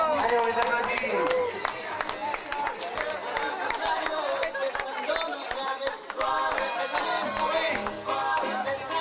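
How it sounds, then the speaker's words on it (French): Wedding guests clapping for the bride and groom, a lively burst of mixed hand claps from a crowd layered with chatter and music, continuous and fairly close. "Allez, on les applaudit."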